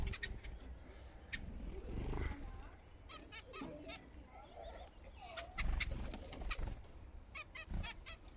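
Zebra finches in an aviary give many short, high chirps and squeaks, scattered and uneven, close by, with someone talking over them and some handling noise.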